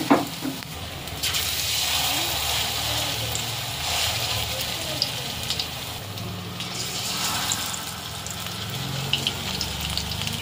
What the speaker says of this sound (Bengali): কুমড়ো পাতার রোল ব্যাটারে ডুবিয়ে ডুবিয়ে ভেজে নেব।